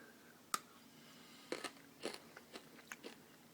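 Crunchy bites and chewing of a Skor toffee chocolate bar, sharp cracks followed by several irregular crunches, close and fairly quiet with no talking.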